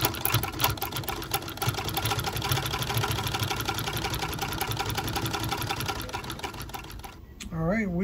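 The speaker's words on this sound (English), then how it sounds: "now we're just going to go ahead and stitch it together" A sewing machine stitches the binding on a leather bag, running in a steady, fast mechanical whir for about seven seconds before stopping abruptly, followed by a brief different sound.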